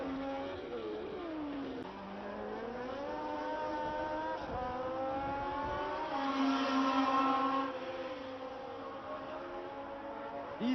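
1972 Formula 1 race cars at Clermont-Ferrand scream along in a close group, several high-revving engines rising and falling as they pass, loudest midway, under a steady crowd-filled backdrop.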